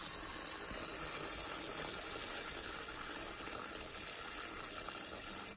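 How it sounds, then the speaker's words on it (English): Water pours steadily into and over a tarantula's water bowl, a continuous close gushing splash that holds level throughout and cuts off abruptly at the very end. "what I'm going to do is overflow that water bowl because it's absolutely minging."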